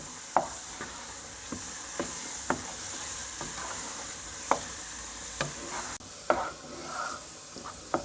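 Khoya stirred into pethe ka halwa in a pan gives a continuous soft frying sizzle, broken by regular sharp scrapes and taps of the spoon against the pan, close and fairly loud.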